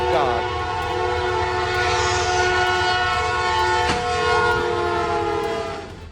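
A train rumbles loudly past up close at a North Jakarta crossing, its horn blaring in long sustained tones over the steady roar of the wheels and carriages.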